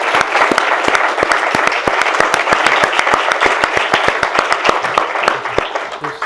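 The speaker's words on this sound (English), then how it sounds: "I think we should give Harry a big round of applause." An audience at an investing talk in Bangkok claps for Harry, with sharp, distinct hand claps in a brisk, fairly even rhythm that hold steady and close throughout.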